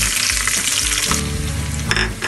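Green chilies and cumin seeds hit hot oil in a pan with fried chicken, giving a loud, steady sizzle and crackle throughout with a few stirring scrapes, no voices.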